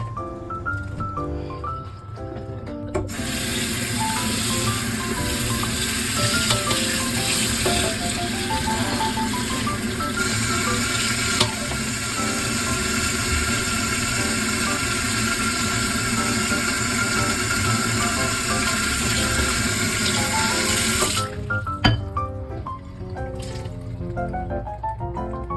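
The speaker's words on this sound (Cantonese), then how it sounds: "咁豬脊骨飛完水之後呢，就用清水去沖翻乾淨佢" Clean tap water runs steadily over blanched pork spine bones, a continuous rushing stream with faint splashing that holds for most of the stretch before cutting off near the end, with soft handling noises around it.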